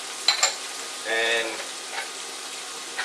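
Chopped celery and red pepper hit a hot pot for corn chowder, giving a quiet, steady sizzle and frying hiss with a brief scraping stir in the middle.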